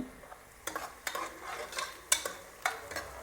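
Onions frying in a pan for Hyderabadi chicken biryani, with a soft sizzle beneath a series of sharp scraping stirs and spoon clinks against the pot, close and fairly quiet.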